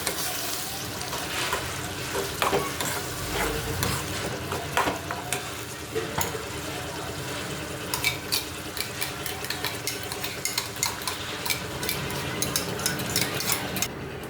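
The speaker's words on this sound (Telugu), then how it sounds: "అలాగే బాగా అయితే మిక్స్ చేసుకోవాలి." Peas for batani chaat being mixed in a hot pan, a close, steady sizzle broken by repeated scraping and clinks of a utensil against the metal, continuing throughout without talk.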